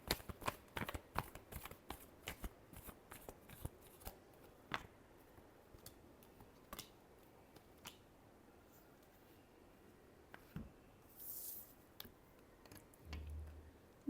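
Tarot cards being shuffled in a final shuffle, with a quick flurry of close, soft riffling clicks at first, then sparse individual taps and snaps spaced out over a quiet background.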